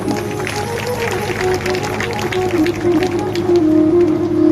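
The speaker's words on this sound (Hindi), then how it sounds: "एक बार सरपंच साहब के लिए भी ताली बजा दी" An audience at a Bhagwat Katha religious gathering applauds for the village sarpanch, a dense patter of clapping hands that swells toward the end, heard under a voice over a sound system.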